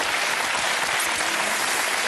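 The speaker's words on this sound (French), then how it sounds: "Vous pouvez les applaudir." An audience applauds in a hall, a dense, even roar of many hands clapping together, steady and moderately distant with no voices over it.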